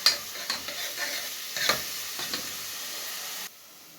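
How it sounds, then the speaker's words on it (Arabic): Onion sautéing in hot ghee in a pot for okra with meat, a bright crackling sizzle punctuated by several spoon scrapes and stirs, then settling to a quieter hiss at the end. "انا بحب اشوح البصله الاول للباميه"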